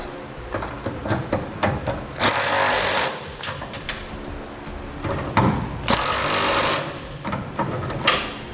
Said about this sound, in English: Next, we'll tighten all of our hardware down.